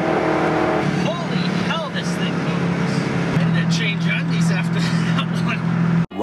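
A Corvette C5 fitted with an SLP Loudmouth exhaust accelerates hard, its loud, rising engine drone and shifting tones filling the clip, with a voice talking over it and an abrupt cutoff at the end.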